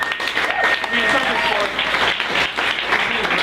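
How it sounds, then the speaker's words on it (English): Audience applause at a comedy roast, a dense, steady round of clapping from a sizable crowd lasting the whole stretch, with faint voices mixed in underneath. "So if we could just give a round of applause."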